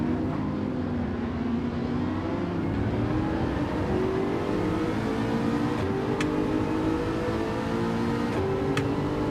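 A race car engine in Gran Turismo 7 drones steadily at high revs, with its pitch slowly climbing as it accelerates and a couple of faint clicks near the end.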